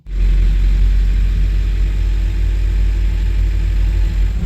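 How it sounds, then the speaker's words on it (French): A camper van's engine fires up abruptly at the start and settles into a loud, steady low idle rumble, heard close and alone with no voices. "je vais démarrer le moteur"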